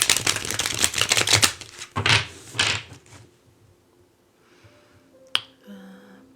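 Tarot cards riffled and shuffled by hand in quick crisp bursts of flapping and snapping, close up, followed by quieter handling and a single sharp tap.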